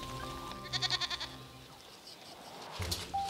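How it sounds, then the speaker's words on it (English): Flock of sheep being driven out to graze at dawn on a desert plateau in Mongolia, with a quick run of rhythmic bleats or calls near the start and scattered animal sounds later, over low outdoor rumble. "After dawn, Kalgeni drives his flock of sheep out to graze."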